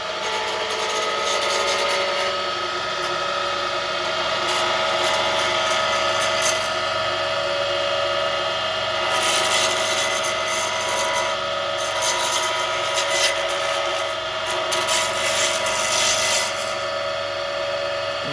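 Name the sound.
roughing gouge turning an acrylic pen on a lathe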